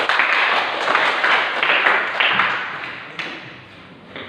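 Applause from a classroom group after the fourth group's presentation, a dense patter of clapping with tapping, fairly near, fading toward the end.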